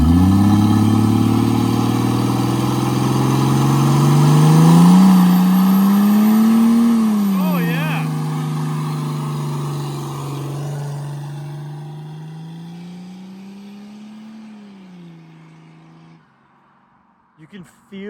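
An old Mercedes OM603 diesel fitted with a big HY35 truck turbo revs hard while spinning its tires. The loud, close roar swells, wavers, then fades away, with a brief exclamation near the end.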